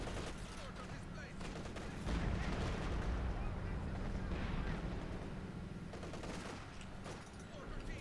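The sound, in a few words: machine gun fire in Company of Heroes 2 video game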